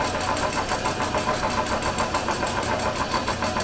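A sewing machine stitches a bag strap for a sling bag in a fast, even, steady mechanical rhythm. It is close and fairly loud.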